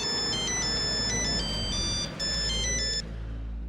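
A phone ringtone trills in a repeating electronic pattern, loud and steady over a low background hum for nearly four seconds before cutting off.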